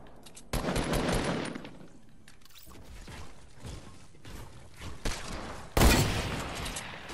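Rapid automatic gunfire from the video game Fortnite comes in several loud bursts separated by quieter gaps, with one sharp heavy burst near the end.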